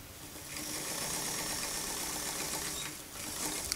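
Sewing machine running forward along a dress seam for a retro Butterick 6871 dress, a steady, fairly quiet mechanical whir that holds evenly with a slight dip near the end.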